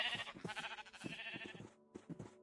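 Sheep in Minecraft bleat in a quick run of several wavering cries, close and clear, one after another with a brief pause before the last few.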